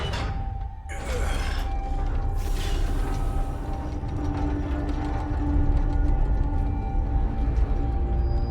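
An old Enigma lock mechanism in Marvel's Midnight Suns opens with a sharp whoosh, then a steady mechanical grinding hum and creaking gears that continue at moderate loudness to the end.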